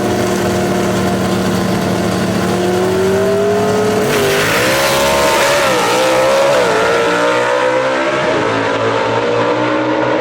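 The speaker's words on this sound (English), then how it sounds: "Leslie Horn takes the win right there in a good drag race" Gasser drag race cars at Shadyside Dragway, loud roaring engines accelerating hard with rising and falling pitch through gear changes, sustained and close with no voices.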